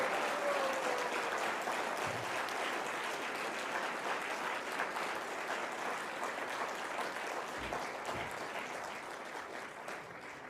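A live audience at a motivational talk claps in sustained applause that fills the whole stretch, dense and steady, easing off only slightly toward the end, with no speech over it.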